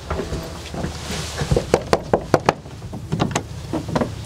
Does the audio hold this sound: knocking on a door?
yes